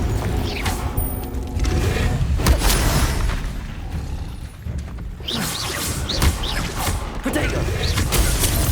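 A Confringo explosive spell from the Hogwarts Legacy game goes off as a loud burst with crashing debris, set amid continuous game noise, whooshes and further impacts.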